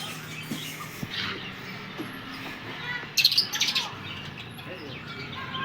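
Birds chirp in a botanical garden in Coimbatore, scattered tweets over a soft outdoor background with a brief brighter burst of calls partway through.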